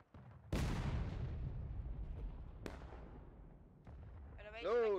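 A Civil War-era cannon fires in War of Rights, one heavy, sudden boom followed by a long rumbling tail, then a couple of sharper distant reports, with a voice speaking near the end.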